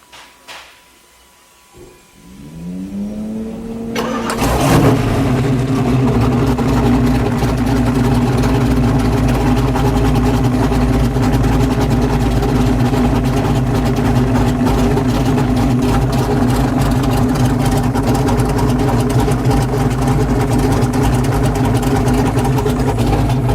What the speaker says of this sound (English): We're going to fire it up. It is a 347 stroker.